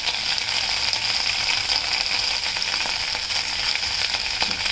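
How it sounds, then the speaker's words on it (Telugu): Ajwain leaves fry for a pickle in a hot pan with a continuous, bright, crackling sizzle at moderate loudness and a faint scrape near the end. "బాగా వేగనిచ్చి"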